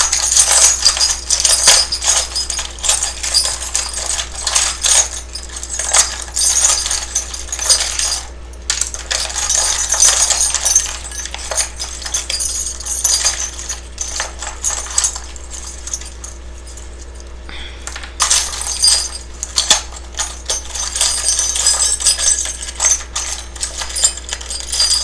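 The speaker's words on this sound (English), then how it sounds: "I normally just shuffle around here until I feel like it's time to take out" Someone shuffles a deck of tarot cards by hand, producing a continuous close, crisp patter of riffling and clicking card edges that runs on with brief pauses, with no speech.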